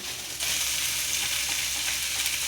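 Capsicum tossed into a hot pan for homemade hakka noodles with carrot, a steady bright sizzle of stir-frying that jumps louder as the pepper hits the oil and holds close and continuous.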